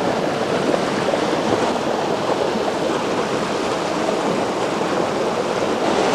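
A mountain stream near Gérardmer rushes steadily over rocks, a dense, continuous close-up wash of flowing water at an even loudness throughout, with no voices.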